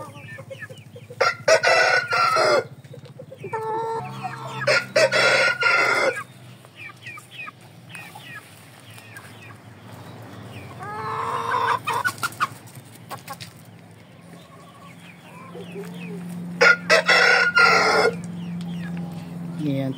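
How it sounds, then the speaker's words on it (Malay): Shamo chickens let loose outdoors cluck, and a rooster crows in several loud, drawn-out calls close by, with quieter clucking and rustling in the gaps. "Ni antara ayam yang aku lepas kat luar."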